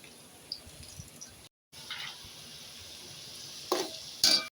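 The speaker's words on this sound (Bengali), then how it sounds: "এখন পেঁয়াজ দিতেছি, পেঁয়াজটা নেড়ে ভাজা ভাজা করে" Onions sizzling in hot oil in a pan for khichuri, a steady frying hiss broken by a brief gap and a few scraping stirs of a spoon near the end.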